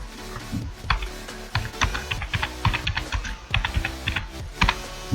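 A computer keyboard is typed on nearby in irregular bursts of crisp key clicks separated by short pauses, with no one talking.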